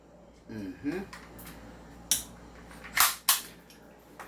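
A silver Desert Eagle toy pistol snaps off three sharp, close cap-gun cracks about a second apart, after a brief voice.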